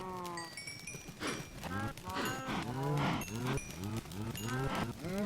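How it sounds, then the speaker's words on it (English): Cows in Minecraft moo again and again while being bred in a pen, a dense run of overlapping bellowing calls that are loud and close throughout. "We're going to breed up some cows here."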